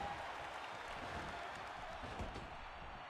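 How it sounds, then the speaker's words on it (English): Steady crowd noise from the WWE 2K15 wrestling video game, a continuous broadband roar with faint applause-like texture, holding at an even level throughout with no talking over it. "at least we have got a bit of crowd noise to listen to"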